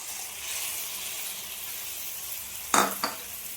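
A curd and spice mixture of Kashmiri chili powder, cardamom, clove and garam masala sizzles in a fish curry pan, a soft steady hiss followed by a loud splash and crackle of pouring and a second smaller burst.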